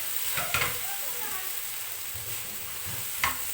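Steady close sizzling of chicken frying in a pan at home, with a few scraping stirs of a utensil and faint background voices.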